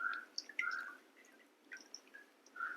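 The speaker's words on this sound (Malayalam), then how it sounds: "ഇതാ പുളി പുളി പിഴിഞ്ഞ് ഒഴിക്കുവാണ്" Tamarind squeezed by hand with salt drips and trickles into a pot of simmering rasam, giving quiet intermittent wet squishes and drips, close and faint.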